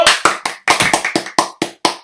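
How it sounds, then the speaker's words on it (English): Sharp hand claps on a podcast: about nine close, crisp slaps in a quick, slightly uneven series, each one dying away fast, with no talk between them. "Oh, he meant one clap."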